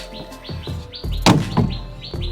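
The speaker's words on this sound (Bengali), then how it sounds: "এই যে আমাদের এই পায়রাটা ধরেছি আজকে।" Bird calls from a pigeon caught in a homemade trap and held in an enclosure, a series of short repeated chirps with one louder burst midway, close by, with no talk.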